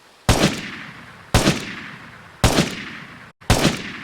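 Gunfire with heavy recoil from a weapon in the video game Vigor: four loud, booming shots spaced about a second apart, each cracking sharply and trailing off in a long echoing decay, with no talk.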